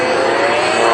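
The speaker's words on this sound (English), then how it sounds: "Rennie Price using all 360 horsepower of that Russian engine to pull straight up in the sky." A Sukhoi Su-29 aerobatic plane climbs straight up under full power from its 360-horsepower Russian radial engine, a loud, continuous, close droning roar.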